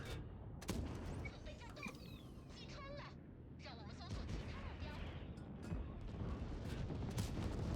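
Tank cannon shots from a tank video game boom out in a few separate, heavy blasts over a dense battle din, with a voice talking over much of it.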